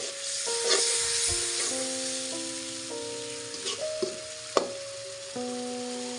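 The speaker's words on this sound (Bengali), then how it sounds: "অল্প অল্প জল দিয়ে মশলাটি কষিয়ে নিচ্ছি।" Spice paste (masala) being fried in a pan with small splashes of water gives a steady, close sizzle for the whole stretch, with soft tonal background music running underneath.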